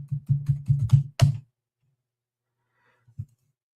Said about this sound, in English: I'm typing loud on purpose